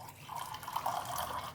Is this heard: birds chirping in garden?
no